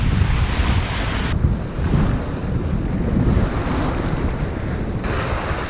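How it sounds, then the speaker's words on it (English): Choppy sea swell and wind aboard a Hallberg-Rassy 54 sailboat crossing from St. Vincent to St. Lucia, a loud continuous rush of waves and wind buffeting the microphone, with no voices. "We've got the very choppy swell coming through here"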